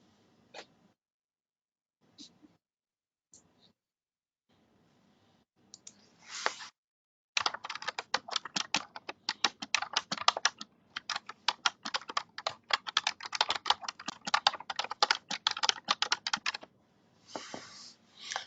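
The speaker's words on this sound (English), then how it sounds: "Let me put myself on mute so you don't hear all my typing." Typing on a computer keyboard during an online meeting: a few isolated key clicks at first, then a long run of rapid, close keystrokes with brief pauses, loud and crisp.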